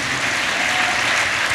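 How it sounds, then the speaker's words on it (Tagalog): A church congregation claps loudly together at a Filipino anniversary service, dense steady applause filling the room with no break. "Malakas na palakpak muli sa ating Diyos na buhay."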